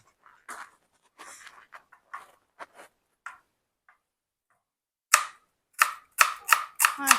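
A knife cuts food on a cutting board, first with scattered light taps and scrapes, then a quick run of sharp, close chops toward the end.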